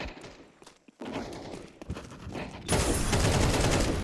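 Rapid gunfire in Counter-Strike 2 as a player shoots while still moving, a loud sustained burst of shots following a few quieter footsteps and clicks.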